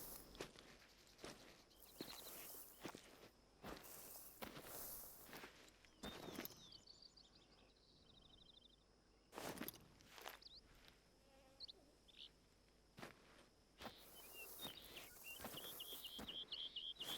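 Faint, sparse footsteps in the hunting game Hunter Call of the Wild, soft scattered steps amid a quiet outdoor ambience of buzzing insects and occasional birds.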